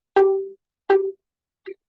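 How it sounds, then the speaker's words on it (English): Three plucked violin notes at the same pitch, played with three fingers down on the string, each a short bright twang that fades quickly, the last one softer and shorter, with silence between. "I'm going to pluck the string with all 3 of those fingers down."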